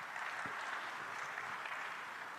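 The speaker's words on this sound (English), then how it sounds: "Please, a round of applause to him." Faint, distant applause from the audience at an Africa50 shareholders' general meeting and infrastructure forum, a smooth, even wash of clapping that holds steady for a couple of seconds with no voices over it.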